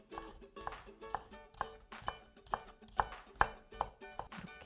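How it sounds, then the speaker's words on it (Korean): Knife chopping a bell pepper on a cutting board, a series of sharp, evenly spaced chops close by, each a quick knock against the board with a short crisp edge. "그 다음에 줄기 부분은 그냥 앞부분도 썰어주세요"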